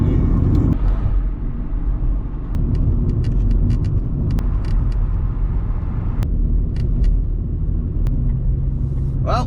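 A car driving on a road, with steady loud engine and tyre rumble running throughout, a brief drop after the first second, and faint small clicks and rattles on top; no talking.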